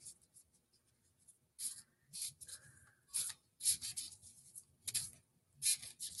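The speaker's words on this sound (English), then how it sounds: "I'll shuffle the whisper love cards." Oracle cards being shuffled by hand, giving a series of soft, papery riffling bursts that come in irregular clusters, fairly close and moderately loud, with no voices over them.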